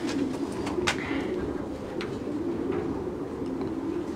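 Young pigeons in a Belgian pigeon loft coo softly in low, repeated murmurs, with a few sharper flutters and clicks scattered through the steady bird chatter.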